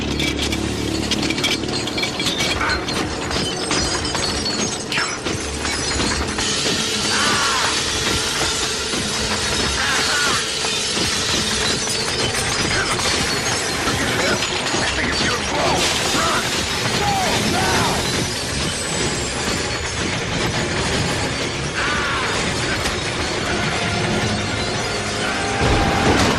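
A Coke vending machine smashing and crashing in a horror movie scene, a dense, loud barrage of shattering, rattling and mechanical roaring that runs nonstop with heavy impacts throughout.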